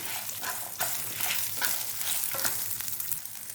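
About fifteen small shallots and four garlic cloves sauté in a pan for radish chutney, a steady close sizzle broken by the scraping of a spatula stirring through them.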